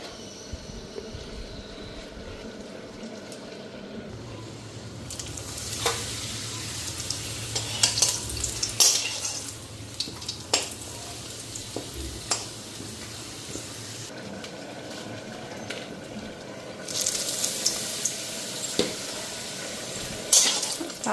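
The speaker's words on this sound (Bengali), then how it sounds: "পাঁপড়গুলি ভেজে নিই" Papad fry in hot oil in a kadai with a continuous, close sizzle. Louder crackling surges and stirring scrapes come and go over about twenty seconds, and no one speaks.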